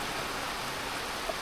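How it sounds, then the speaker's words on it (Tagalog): Heavy rain pours in a dense, steady hiss on Siquijor Island in the Philippines, loud and unbroken through the short stretch with no voices. "Grabe, sobrang lakas ng ulan."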